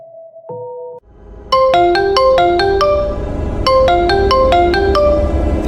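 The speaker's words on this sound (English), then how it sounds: "The eerie ringtone was like a snake slithering into our ears" A phone ringtone plays a loud, bright electronic melody of quick repeating notes in two phrases, alone with no voices, after a couple of short tones at the start.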